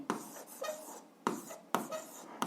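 Pen strokes scratch across paper as a formula is written by hand, a few short bursts of scribbling separated by sharp taps, quiet and close with no talking.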